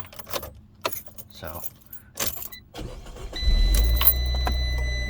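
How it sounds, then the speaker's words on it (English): Keys jangle amid brief talk, then a Fiat 500 1.4 Pop petrol engine cranks and catches, settling into a steady, close idle that fills the last couple of seconds. "If I start it up, it's gonna be fine."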